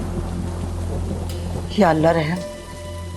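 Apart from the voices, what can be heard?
heavy rain falling outside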